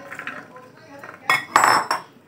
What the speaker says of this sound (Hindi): चने को हमें प्रेशर कुक करना है तो कुकर में हम चने को डाल देते हैं